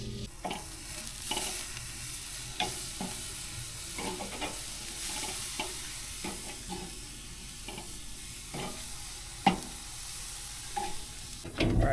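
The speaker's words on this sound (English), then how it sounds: "you can always add more cream in and then just stir that around." Creamed spinach sauce with cream stirred in a pan, heard as a soft continuous simmering hiss broken by scattered utensil scrapes and taps against the pan, fairly quiet, without speech.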